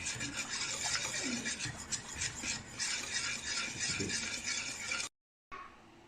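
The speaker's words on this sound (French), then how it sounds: "Je vais mélanger, laisser épaissir et cuire le velouté pendant 10 minutes à peu près." A whisk or spoon scraping and rubbing steadily through a thickening velouté sauce in a pot, made for an old-fashioned veal blanquette, with a continuous raspy texture for about five seconds before a brief silence and a short resumption.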